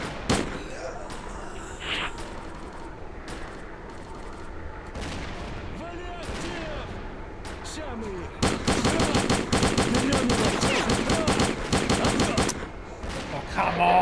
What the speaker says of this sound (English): Where the fuck are these bullets going?